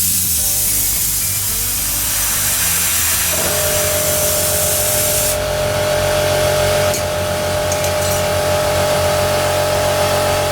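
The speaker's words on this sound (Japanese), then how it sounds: "なんか一回空気抜きます" Air hisses out of the tire of a Honda CB125T motorcycle during bead seating, a loud, steady rushing spray that fills the clip and turns harsher and brighter partway through.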